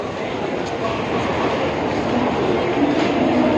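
A train at a busy railway station, its steady rumble and clatter filling the scene continuously with crowd noise and voices mixed underneath.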